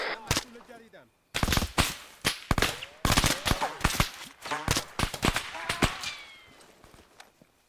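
Sharp rifle shots ring out in Arma 3, a couple of single cracks followed by a rapid, irregular volley of close shots that tails off, with voices speaking between them.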